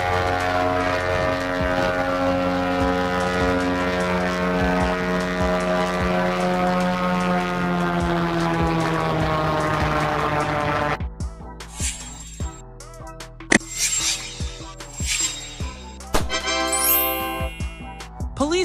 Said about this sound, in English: BLIMP, controlled air balloon. A blimp is a large air balloon that can be steered.